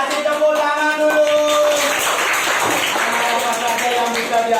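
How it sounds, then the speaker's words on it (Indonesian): Classroom applause greets a student group stepping to the front, a burst of clapping that swells at midpoint and tails off, with voices talking over it. "Kasih tepuk tangan dulu."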